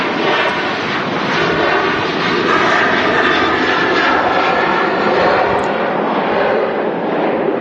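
A Jet2 airliner takes off from Manchester Airport, bound for Gran Canaria, its engines giving a loud, sustained roar with wind buffeting on the microphone throughout and no talk.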